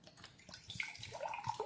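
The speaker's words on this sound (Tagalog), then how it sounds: "Ibuhos natin tong tubig na pinagbabaran yung nakababad na sa Alkalife natin." Water that has soaked with Alkalife being poured into a glass, a steady close trickle and splash that rises in pitch as the glass fills, heard alone without talk.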